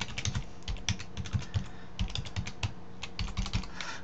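Rapid typing on a computer keyboard while filling in account details on a management portal, with clustered, uneven key clicks running steadily throughout at close range and no talking.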